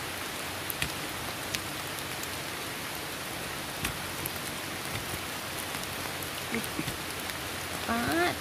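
Steady rain falls outdoors onto damp clay ground during a mushroom dig, a constant close hiss with scattered drops, scrapes and faint voices, plus brief chirps near the end.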